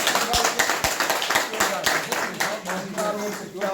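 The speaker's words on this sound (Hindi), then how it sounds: "क्या बात, जोरदार तालियों से।" Audience applause at a political joining event, with bursts of clapping from a crowd rising and falling over several seconds while someone speaks over it.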